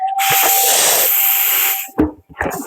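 Air rushes out of a punctured party balloon in a loud, steady hiss lasting nearly two seconds, then cuts off and is followed by a few brief rustling handling noises.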